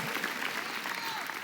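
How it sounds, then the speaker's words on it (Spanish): A church congregation applauding during a sermon, steady dense clapping that fills the whole stretch at moderate loudness, with faint crowd murmur mixed in. "Den un aplauso a Dios"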